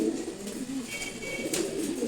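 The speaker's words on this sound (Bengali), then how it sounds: "এখানে যে কবুতরগুলো দেখাচ্ছে এগুলো সবগুলোই নর কবুতর।" Male pigeons of mixed breeds in a loft, including grizzles, Giribaz and racers, coo in low, throaty rolling calls that overlap and repeat steadily at moderate volume, with no talking.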